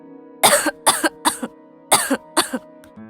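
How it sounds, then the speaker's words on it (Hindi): A woman coughs from clay stove smoke in a series of five sharp, close bursts, spaced unevenly, with a faint steady hum underneath. "तभी चूल्हे के धुएं से वो खांसने लगती है।"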